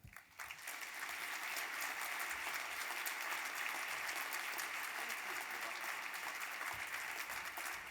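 An audience breaks into steady, sustained applause at an anniversary breakfast event, welcoming a keynote speaker; the clapping is dense and even throughout after a brief quieter start.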